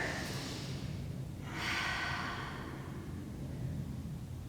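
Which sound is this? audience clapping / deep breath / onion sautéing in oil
deep breath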